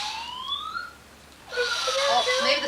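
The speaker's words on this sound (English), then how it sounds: "Oh, the siren goes." A toy police car siren wails with rising electronic tones, briefly pausing, then sounding again in a louder, warbling burst close by.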